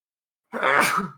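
A single sharp, explosive sneeze close by, bursting out after a moment of silence and trailing off quickly.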